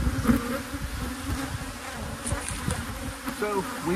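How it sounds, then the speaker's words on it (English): Agitated honeybees swarm around a hive being split by a beekeeper, a dense, continuous buzzing drone with individual bees zipping close past the microphone, no talk. "thoroughly ticked off the bees now."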